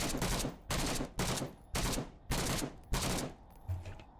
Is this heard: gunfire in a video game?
yes